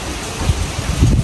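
Strong wind gusting outdoors, loud buffeting rumble against the microphone with rustling bursts, brief and close.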